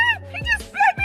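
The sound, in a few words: dog barking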